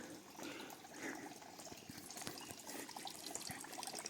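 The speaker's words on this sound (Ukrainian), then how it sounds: "І водичка тече." Water from a spring at the Yuzia pump room in Truskavets' resort park runs in a steady, faint splashing stream, continuous and even with small irregular drips and gurgles, heard outdoors with no talk.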